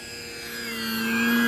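An FMS Maule 1500mm electric RC model airplane buzzing through an abrupt turn, a steady tonal motor and propeller whine that grows louder and rises slightly in pitch as it approaches, heard alone.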